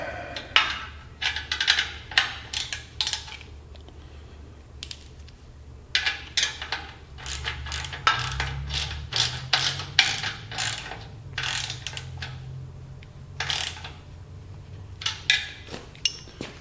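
Ratchet wrench tightening a bolt at a trailer's main grounding point, repeated quick clicking strokes in irregular bursts, close and clear, with a low background hum.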